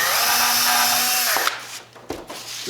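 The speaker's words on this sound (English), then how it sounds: "we're going to come in with a 5/64 drill bit, and we're going to pre-drill" A power drill with a 5/64 bit whirs steadily for over a second drilling a pilot hole in wood, then stops, followed by a few light clicks and handling knocks.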